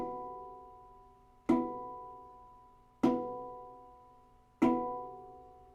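Three evenly spaced handpan strikes, each a chord with bright harmonics, ringing out and decaying slowly, close and clear with no voices.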